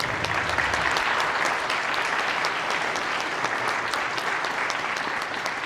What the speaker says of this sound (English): Let's give him another round of applause for that wonderful commencement address to our students